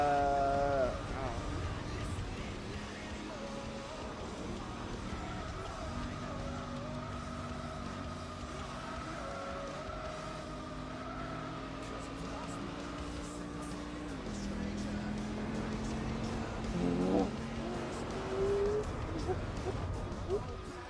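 A Ford Falcon racing in the video game Gran Turismo 5, its engine droning and shifting pitch through gear changes across the whole stretch, with a person talking over it.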